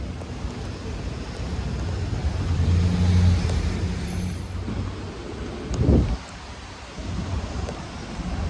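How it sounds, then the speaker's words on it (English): Rain falling outdoors as a steady, broadband hiss with low rumbles, probably passing vehicles, and a brief louder burst near the end. "A little bit of rain coming down right now."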